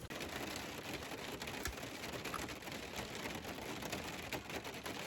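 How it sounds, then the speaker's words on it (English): Steady rain pours down on a Jeep rooftop tent camper, a dense even hiss of drops drumming on a surface nearby, with no voices. "It's raining."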